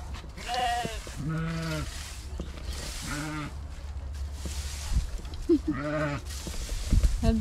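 Sheep bleating in a barn, several wavering, drawn-out bleats coming in a steady sequence at close range, set against a constant low hum of barn machinery or ventilation.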